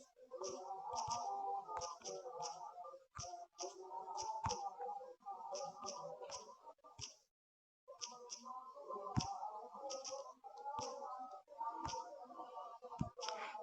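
Rapid clicking keystrokes from typing text on a computer keyboard, close and steady in bursts with a brief pause midway, no talking.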